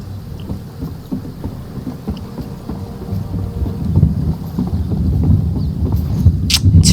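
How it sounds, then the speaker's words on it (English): Rain and thunder in the video game Elder Scrolls Online, a low rumbling that swells and grows louder over the seconds under a steady patter, with hoof-like clops mixed in. "It's raining. I love when it rains. In game, in real life. Thunder."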